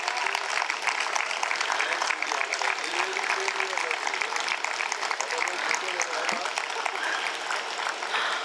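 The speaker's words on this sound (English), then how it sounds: "Please give a big round of applause to Mr. Irani." A live audience applauds Mr. Irani at a literary festival, a dense, steady wash of many clapping hands sustained throughout, with faint voices underneath.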